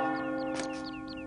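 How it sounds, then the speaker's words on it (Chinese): A distant bell rings with a sustained, resonant tone that lingers steadily across the clip, moderately faint and heard alone without voices. "这时候，他听到远处的钟声。"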